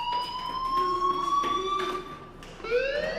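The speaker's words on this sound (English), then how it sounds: "do you hear that fire alarm?" A fire alarm rings in the video game Life is Strange, a steady electronic tone with rising and falling sweeps, fairly loud and continuous throughout without speech.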